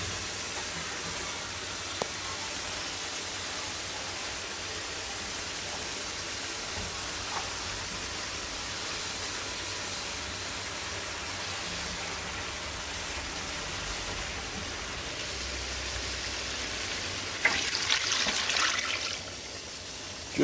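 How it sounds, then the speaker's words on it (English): Water running into a pot of turkey necks, a continuous hissing rush of tap water that brightens toward the end as the level rises. "I fill them up with water just over the top."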